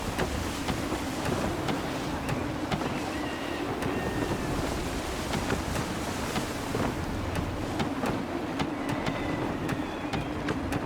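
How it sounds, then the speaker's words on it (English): Steady rushing wind and churning sea water around a sailing ship in Assassin's Creed III, a continuous broadband roar with faint creaks and thin whistling gusts, no talk. "Gusty winds can be difficult to manage"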